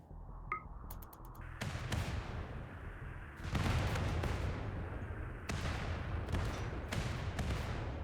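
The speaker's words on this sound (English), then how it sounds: "Well, not the most effective rocket bombardments we've ever done." Rocket bombardment in the colony game Rimworld: a few quick clicks, then a run of heavy booming blasts that overlap into a sustained, loud roaring barrage with no talk.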